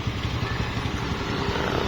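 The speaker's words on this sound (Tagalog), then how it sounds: "umiikot na yung mga motor dito" Motorcycles circle the grounds of Barasoain Church in Malolos, Bulacan, after a wedding, their engines giving a steady close mid-pitched rumble and clatter that holds without a break throughout.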